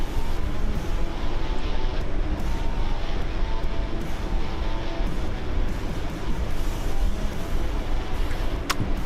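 A C-130 transport plane's engines drone steadily and loudly in a video game set on an Iraq map, a broad continuous roar with no voices.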